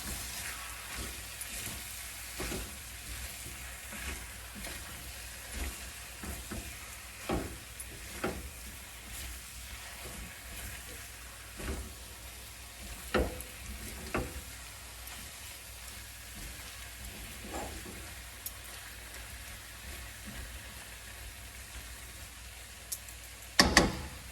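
Capsicum and potato sabzi, seasoned with garam masala, stirred in a pan: a low steady sizzle runs throughout, broken by scattered clicks and scrapes of the spoon against the pan, fairly faint and with no talking.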